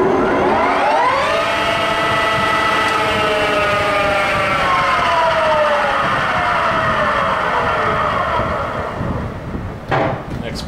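A Goodway GW1660 gap bed lathe with a new 10-inch three-jaw chuck spins up to its top 1800 rpm, a loud steady mechanical whine with clear rising tones that settles into a sustained hum before tapering near the end.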